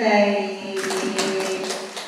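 Children clapping their hands together in a classroom, a burst of quick, uneven claps that starts after a sustained tone and continues steadily close by.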